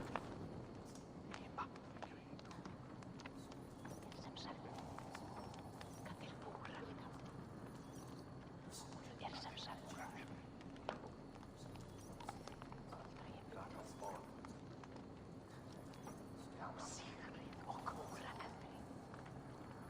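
Horse hooves clip-clopping at a steady walk in Assassin's Creed Valhalla, a continuous moderate rhythm under mechanical rattles and game ambience.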